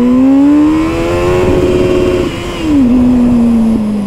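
A motorcycle engine revs loud and close, its pitch climbing as it accelerates hard, dipping at a gear change, then pulling on again steadily.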